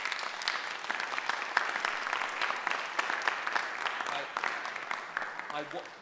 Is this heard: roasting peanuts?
no